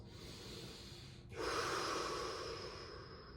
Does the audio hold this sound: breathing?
yes